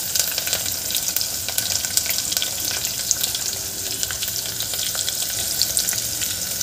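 Onion with crushed garlic and curry leaves fries in a pan for a Vidarbha-style dal bhaji, making a loud, continuous close-up hiss with faint crackles throughout and no voices.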